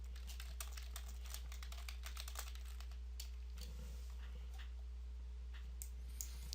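Fast, light keystrokes on a computer keyboard tap in quick irregular bursts, close and faint over a steady low electrical hum, thinning out toward the end.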